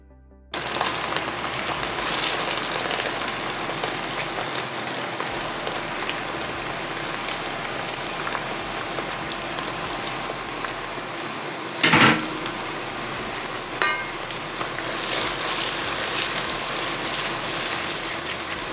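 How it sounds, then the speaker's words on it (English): Tomato paste and purple onion sauteing in a pan, a steady close sizzle and crackle of frying that runs throughout, with a couple of brief louder clatters partway through. "So I added some tomato paste with the purple onion, and we're gonna saute that for a little bit before adding the tomato puree."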